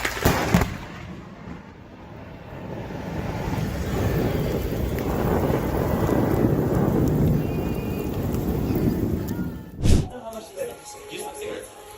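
Thunder from a lightning strike near water rolls as a long, loud low rumble across most of the stretch, ending in a sharp sudden crack near the close, with rain-like hiss throughout.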